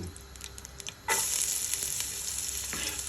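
Chopped onions hit hot oil in a pot for Saudi kabsa with a sudden loud sizzle, then fry in a steady crackling hiss close by, with a few stirring scrapes and no voices.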